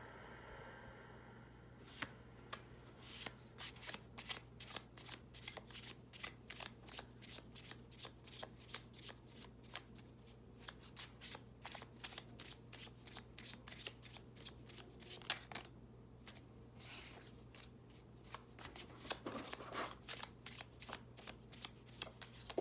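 Pocket animal spirit oracle deck being shuffled, a long run of crisp rapid card riffles and slaps, close and quiet, with no talk.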